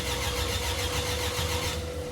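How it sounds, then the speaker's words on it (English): Porsche 911 with a 200 bhp Type 4 engine being cranked over to build oil pressure, a steady close, loud churning drone running continuously without catching. "here I'm just turning the engine over until that oil pressure light goes out"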